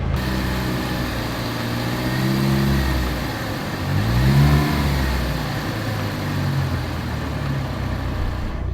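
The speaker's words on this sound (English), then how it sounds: "Parker, can you go rev it up for me real quick?" A Ford Focus ST with its EcoBoost engine is revved and held near 2,000 rpm, two rising swells of engine tone over a steady idle, close and fairly loud with no talking.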